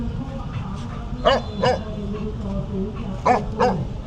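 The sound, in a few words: dog barking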